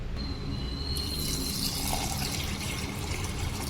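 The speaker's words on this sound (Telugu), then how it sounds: "దాన్ని బాగా కడుక్కుందాం." Chana dal being rinsed in water for masala vada, with a steady splashing, running-water wash close by and no talk, a faint high tone in the first second and a half.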